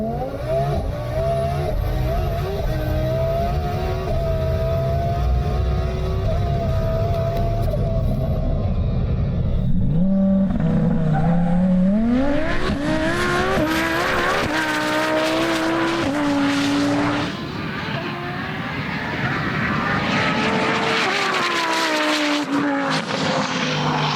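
A twin-turbo Lamborghini Huracán Performante supercar making a full no-prep drag pass on a runway, loud and close, with the engine note climbing hard through gear changes for about twenty seconds.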